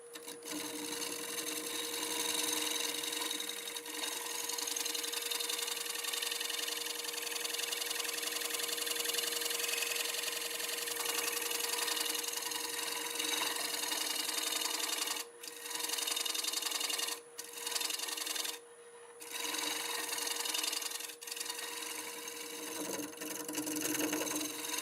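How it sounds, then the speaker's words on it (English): A wood lathe spins a scrap-wood piece at about 700 RPM while a negative rake scraper works the surface, giving a steady close hum with a high whine and a few brief dropouts, with no talking. "I want to refine it with the negative rake scraper"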